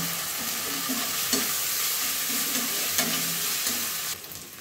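Ginger-garlic paste fries with browned onions in a pan, a close, steady sizzle broken by repeated scraping stirs, easing off at the end; no voices.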